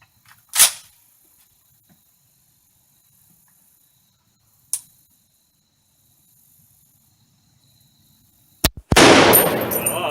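A French MAS 49/56 rifle with a filed-down firing pin fires during a slam fire test: a sharp loud crack near the start, another single report midway, then a final shot followed by a burst of rattling mechanical noise, with near silence between.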